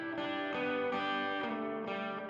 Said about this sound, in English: So with it in, you basically get the same kind of reverb you would expect with these algorithms.